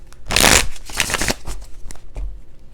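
A deck of tarot cards is shuffled close up during a reading, giving a loud riffling burst followed by several shorter, softer flutters and taps as the cards settle.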